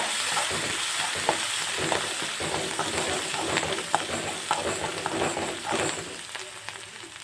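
Asafoetida, curry leaves and ginger-chili-garlic paste sizzle steadily in hot oil, with occasional scraping stirs and small pops in a continuous, moderately quiet frying hiss.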